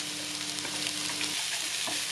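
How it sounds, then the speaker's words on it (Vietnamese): Vegetables for a vegetarian spring roll filling, root vegetables among them, stir-fried in hot oil, giving a steady, close sizzle with a few stirring scrapes through the whole stretch and no voices. "Mình xào mấy cái củ này để cho nó chín bùi á"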